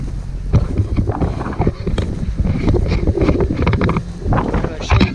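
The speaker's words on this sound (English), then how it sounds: "It's too windy out here." Strong wind buffeting the microphone outdoors on a farm where a Claas Uniwrap baler is being run, a loud continuous low rumble with gusting bursts throughout, and a voice speaking over it.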